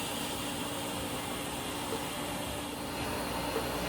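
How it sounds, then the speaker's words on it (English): Steady, continuous hiss and crackle of welding as a flat plate is joined to the frame rail of a 1946 Ford Coupe, an even, moderately quiet buzz with no pauses. "So now I'm just gonna go ahead and weld that up."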